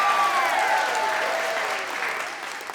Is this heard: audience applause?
yes